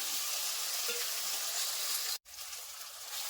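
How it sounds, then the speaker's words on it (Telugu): Tomatoes frying with ginger garlic paste for cauliflower biryani, a loud continuous sizzle filling the pan, broken by a brief cut near the end before the hiss resumes, no talking. "టమాటా వేసుకున్నా కూడా కాసేపు అలా ఫ్రై అవనివ్వాలి"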